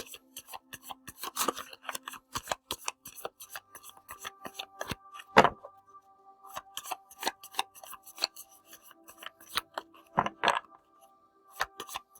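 Oracle cards handled and picked in a quiet room, with a series of light papery flicks, taps and slides, plus a few sharper card snaps standing out.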